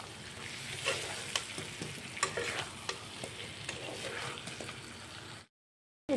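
Chicken and potatoes with garam masala are stirred in a frying pan, with a steady sizzle and repeated scraping clinks of a spoon against the pan, close by. The sound cuts off abruptly near the end.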